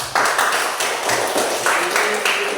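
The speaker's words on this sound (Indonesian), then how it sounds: "kita berikan tepuk tangan dulu" A classroom of pupils claps together during a lesson on fluent reading, a steady burst of many hands close by with a few voices mixed in.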